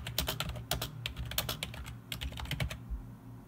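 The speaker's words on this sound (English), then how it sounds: "CyberPower PC keyboard. It's tactile." Rapid, close typing on a tactile CyberPower PC keyboard in a home office, a steady patter of distinct key clicks over a low background hum.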